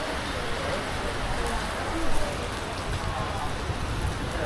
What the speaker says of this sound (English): Raindrops on the lens.